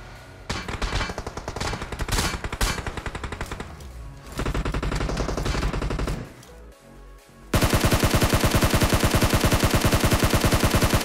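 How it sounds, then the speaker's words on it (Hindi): Gunfire in BGMI amid an apartment-block fight: bursts of close automatic fire with brief pauses, ending in a long, loud, rapid continuous spray. "कोई फायरिंग कर रहा था साइड से भी"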